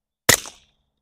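A single suppressed pistol shot fired through a Dead Air Mask silencer, a sharp close crack with a short fading tail, set alone between stretches of silence.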